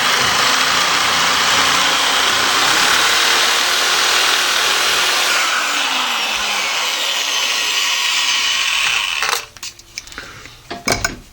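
A Harbor Freight swivel head shear cuts shiny aluminum sheet with a steady, continuous mechanical whir for about nine seconds. Then the motor stops and a few scattered clicks and knocks follow.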